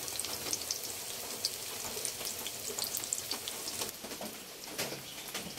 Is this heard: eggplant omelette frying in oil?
yes